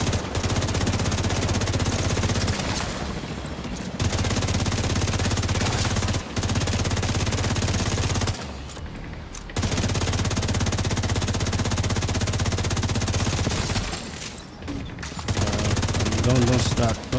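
Sustained automatic gunfire in The Division 2, loud and close, with rapid bursts running almost continuously and only a few brief pauses between strings of shots.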